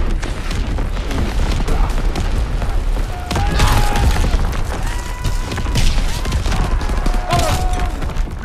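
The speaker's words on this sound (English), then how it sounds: "Incoming enemy artillery!" Enemy artillery barrage in the World War II shooter Call of Duty WWII, a dense, continuous rumble of heavy blasts and crashing impacts that swells in waves, loud and close throughout.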